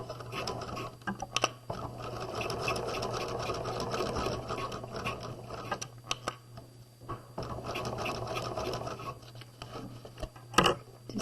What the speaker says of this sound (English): we're going to sew across where we have pinned it